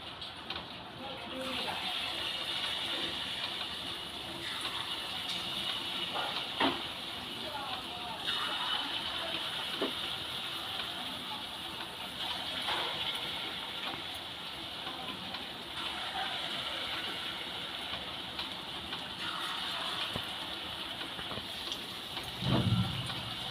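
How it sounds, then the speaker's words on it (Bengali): Taler bora, palm fruit fritters, frying in hot oil, a continuous hissing sizzle held steady for a long stretch, with a few brief knocks and talk at low level. "বাকি বড়াগুলো এবার ভেজে নেব।"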